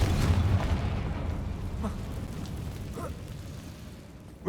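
A Confringo fire spell explodes in the video game Hogwarts Legacy with a loud booming burst that rumbles and fades over several seconds, with faint crackles and a small pop at the end.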